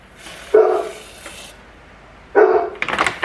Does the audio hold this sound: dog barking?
yes